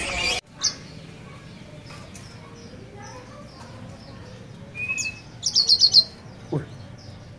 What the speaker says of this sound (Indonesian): Burung sanger sudah bunyi ya?